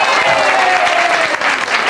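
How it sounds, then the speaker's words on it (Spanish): A studio audience on a 1998 television variety show bursts into loud, sustained applause, a dense wash of many hands clapping close and steady throughout. "Denle un aplauso."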